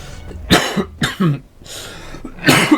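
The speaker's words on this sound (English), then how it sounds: "I'm still recovering from a little bit of a cough, actually, so sorry about that." Several harsh coughs, likely a person recovering from a cough, burst out close and loud in quick clusters with short gaps between them, with no speech alongside.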